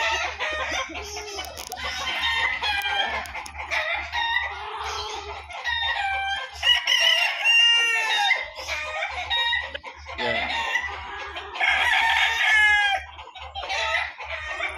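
A street comb rooster of bulik Inyo DC bloodline crows and clucks in a loud burst of repeated cries, with other fowl clucking close by and a low engine hum underneath.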